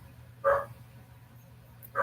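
A dog barks twice, once near the start and again cut off at the very end, each bark loud against a low steady background hum.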